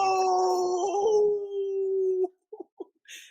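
A dog named Reezy howls in one long, wavering, sustained note that slides down in pitch, then trails off into a few short whimpering yips, close and clear with no talk.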